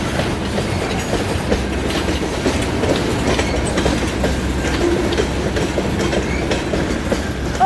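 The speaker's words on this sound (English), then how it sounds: "I think that's the train that goes from the smelter to one of the mine sites" Freight train running from a smelter to a mine site, passing close by with a loud, steady rumble and rhythmic clickety-clack of wheels throughout.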